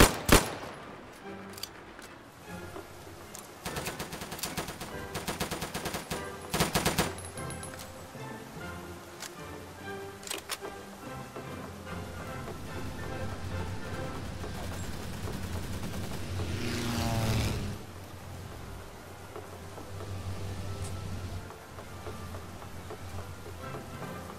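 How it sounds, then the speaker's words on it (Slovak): Rapid bursts of gunfire from airships in a video game battle, with dense crackling volleys, a sustained rumble and a louder swelling blast near the end. "Čo po mne strieľaš?"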